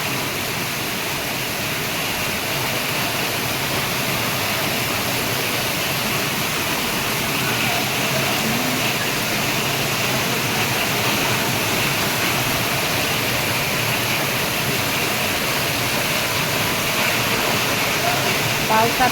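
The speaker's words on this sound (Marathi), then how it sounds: "लय पाऊस चालू आहे" Heavy monsoon rain pours down in Surat, a steady, dense hiss and roar that continues without a break and is heard alone.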